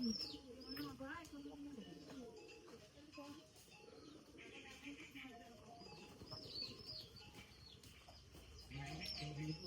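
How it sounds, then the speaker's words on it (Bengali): Pet pigeons call out faintly in the distance, with soft cooing, chirps and brief wing flaps, while a person talks quietly throughout. "আসতেছে কিছু কিছু কবুতর।"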